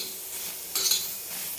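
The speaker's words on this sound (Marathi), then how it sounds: "तर हा कांदा टाकला आहे मी. तर याला भाजून घेऊ." Onion fries in oil in a pan for a spicy masala kharvangi brinjal dish, a soft steady sizzle with a brief louder crackle of stirring midway and no talk.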